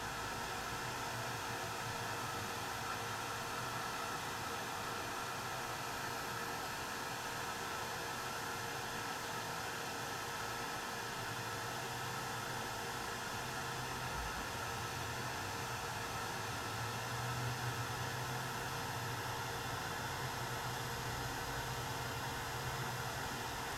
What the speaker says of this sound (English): And as I see it turning, I'm moving my heat tool.